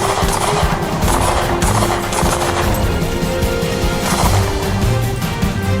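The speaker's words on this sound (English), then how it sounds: "Shots fired. Shots fired." Gunfire erupts during a police standoff, a dense rapid volley of loud cracks and bursts, near and sustained with crashing impacts, no talk over it.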